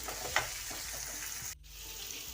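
Chopped onion and tomato fry in hot tempering oil, giving a faint, steady close-up sizzle with a brief dip in sound near the end.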